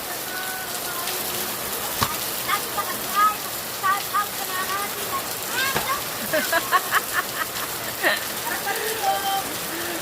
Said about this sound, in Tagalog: Kasi ang lakas ng ulan.